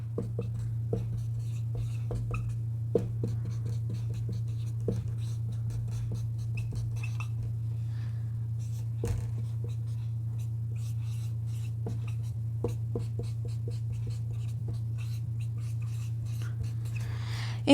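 Marker writing amino acid structures on a board: faint, irregular scratchy strokes and taps over a steady low hum, quiet and close.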